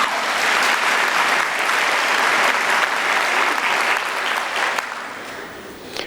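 Steady, sustained applause from a large graduation ceremony audience honouring distinction candidates, a dense wash of many hands clapping at even loudness before easing slightly at the end.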